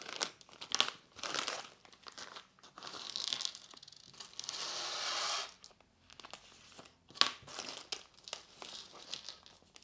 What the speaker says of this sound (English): so we have to open up bag F